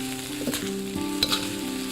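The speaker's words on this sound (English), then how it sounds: "add 2 beaten eggs. And we're going to carefully stir those in." Beaten eggs are stirred into fried rice in a hot pan at a restaurant kitchen, with steady close sizzling and frying, brief scraping stir strokes, and no talk.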